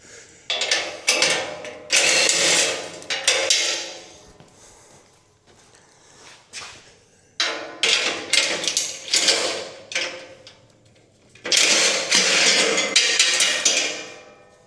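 Bursts of a ratchet wrench working bolts loose on a Mech Max SG24 stump grinder, three or four loud clicking runs separated by quieter pauses, close up with no talk.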